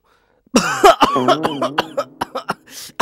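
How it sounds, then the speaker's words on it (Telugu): A person coughs repeatedly, several harsh close bursts with throat clearing, right after taking off a face mask. "మాస్క్ ఉంది కదరా మాస్క్ తీసి మరీ దగ్గుతావేంటి"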